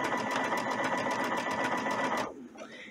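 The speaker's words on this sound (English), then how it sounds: "we're gonna just use it to do this overlock, and we're gonna keep our fabric flat doing that." A Brother sewing machine stitches an overlock stitch on flat t-shirt fabric with a rapid, even mechanical chatter, close up, running for about two seconds before stopping abruptly.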